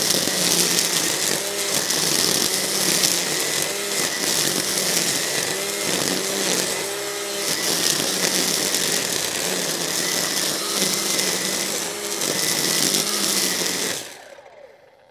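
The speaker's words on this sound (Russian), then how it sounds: "включаю максимальную скорость." A Makita UX001G combi motor trimmer running at maximum speed while cutting grass: a loud, steady high-pitched motor whine held for about fourteen seconds, then cut off abruptly.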